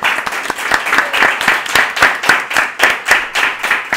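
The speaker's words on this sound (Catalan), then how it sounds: "Un aplaudiment per vosaltres." Small group clapping after a Catalan podcast's live show, a few hands giving distinct, fairly quick claps in an uneven rhythm, close and clear, with no talk over it.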